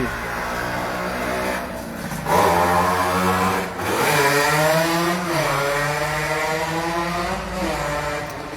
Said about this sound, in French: j'attends que la moto elle passe